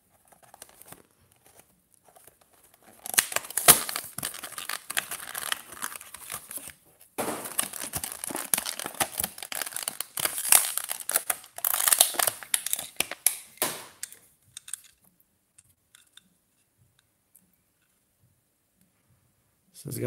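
Crinkly plastic and cardboard packaging of a Maisto diecast model car, an officially licensed Volkswagen, being handled and torn open up close: bursts of crackling and rustling with a brief pause, then quiet handling near the end.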